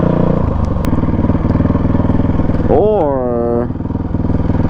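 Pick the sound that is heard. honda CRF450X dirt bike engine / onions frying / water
honda CRF450X dirt bike engine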